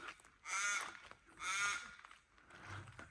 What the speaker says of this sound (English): Crow laughing at us in the distance.